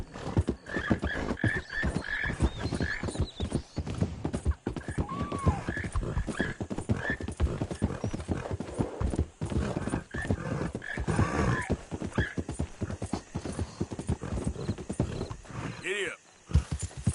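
Horse hooves clip-clop steadily at a ride's pace in Red Dead Redemption 2, a continuous rhythmic patter close up with occasional whinnies and a voice speaking over it.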